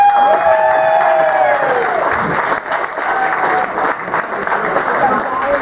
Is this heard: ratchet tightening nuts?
no